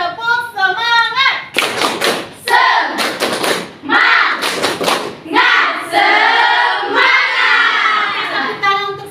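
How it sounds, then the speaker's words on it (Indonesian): A ninth-grade class in an Indonesian school claps out a rhythmic tepuk semangat spirit clap, loud bursts of many hands in patterned beats alternating with children's voices chanting along, close and lively. "Kita tes dulu ya, tepuk semangat."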